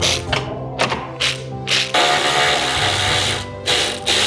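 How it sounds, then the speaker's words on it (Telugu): A close Ingco ratchet wrench works on a 12 mm car bolt, giving loud bursts of rapid mechanical clicking broken by short pauses and then a longer steady whirring run. No one talks. "సో 12 నంబర్ బోల్ట్ అయితే ఓపెన్ అయిపోయింది"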